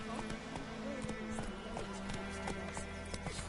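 Horse galloping in Witcher 3, a quick run of hoof clip-clops in steady rhythm on hard ground, moderately close, under faint background music and ambience.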